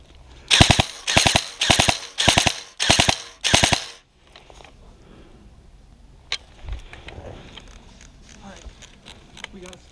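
Airsoft guns fire during a game at Flagswipe: six rapid full-auto bursts ring out close and loud in quick succession, then stop, followed by quieter rustling, a distant pop and brief talk.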